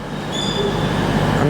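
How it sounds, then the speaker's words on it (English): Steady rumble and rail noise inside a moving GWR passenger train just after leaving Swindon, diverted toward Euston, with faint high wheel squeal tones; continuous and close, no speech. "I'm currently on the train"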